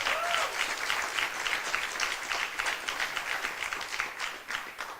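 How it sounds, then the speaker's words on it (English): Audience applause for a group of students at a school district performance evening, a dense, sustained burst of many hands clapping in a hall, steady throughout. "Let's give them a round of applause also for helping us tonight."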